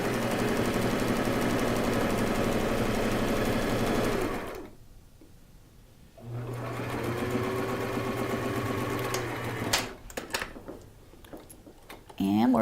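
A sewing machine runs a straight stitch on turban fabric in steady bursts, a loud continuous whir broken by a pause near the middle and a sputter of stops toward the end.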